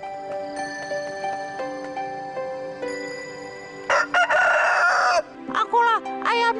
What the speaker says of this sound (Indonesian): kalian pasti akan dengar ayamku berkokok